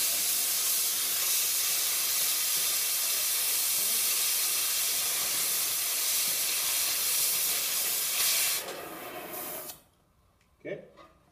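An oxy-acetylene torch cutting through metal gives a steady, loud hiss with a spray of sparks that runs unbroken for about nine seconds, then cuts off, leaving quiet with a faint knock near the end.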